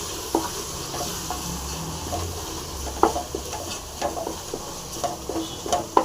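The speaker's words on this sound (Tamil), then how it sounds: "தக்காளி போட்டு நல்லா ஃப்ரை பண்ணலாம் தக்காளி நல்லா வதங்கிட்டு வருது இது கூட மிளகாத்தூள் போட்டுடலாம் மிளகாத்தூள் போட்டு நல்லா கலக்கிங்க" Tomatoes with chili powder frying in a pressure cooker, stirred with a utensil: a steady sizzle runs throughout while scraping clinks and taps come every second or so, close and with no talk.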